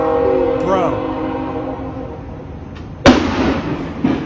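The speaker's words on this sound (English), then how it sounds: "was that them sending in a grenade or something? Flash like that?" A police flashbang grenade goes off during a US Marshals and police callout: one sharp, loud bang cuts in after loudspeaker tones and background voices, followed by a smaller thump.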